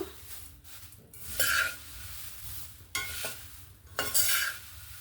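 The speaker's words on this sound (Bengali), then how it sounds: "চিড়েটাকে ঘিয়ের সঙ্গে ভালো করে নাড়াচাড়া করে নিলাম।" Flattened rice (chira) stirred in ghee in a pan, with scraping strokes of a spoon against metal in bursts over a soft sizzle, close and fairly quiet.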